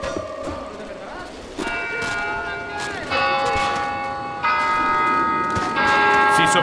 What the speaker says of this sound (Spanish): Usaré la campana.